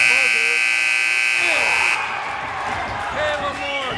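A loud, harsh buzzer sounds at the end of a quarter in a varsity basketball game, held for about two seconds, then cuts off to gym crowd noise and voices talking.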